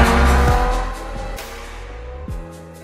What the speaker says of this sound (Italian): E le emozioni iniziano dal rombo, quello pazzesco, tipico di una supercar.